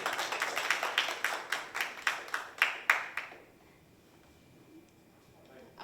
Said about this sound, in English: please give a big round of applause to him as well